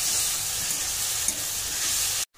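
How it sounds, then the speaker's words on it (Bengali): Spiced mixture, cooked with tomato for an echor chingri jackfruit-prawn dish, frying hard in a pan: a steady, loud, close crackling sizzle with one small stir bump, cutting off abruptly at the end. "মশলা দিয়ে খুব ভালো করে কষিয়ে নেব"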